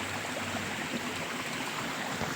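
Irrigation water runs through a field channel into a village wheat field, a steady, close, continuous rushing and gurgling with no voices over it.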